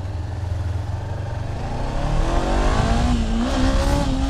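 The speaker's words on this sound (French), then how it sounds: "Ah c'est un power wheelie quoi." A motorcycle engine revving hard during a power wheelie, a loud, close mechanical roar that climbs in pitch and intensity as the throttle opens, building steadily toward the end.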